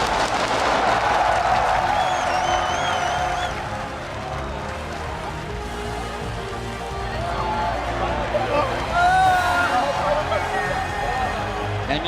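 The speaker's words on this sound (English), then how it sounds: "the crowd's giving a standing ovation after that one" A large arena crowd at the League of Legends Worlds 2016 championship cheers and applauds in a dense, sustained roar after a series win, with excited commentators talking loudly over it throughout.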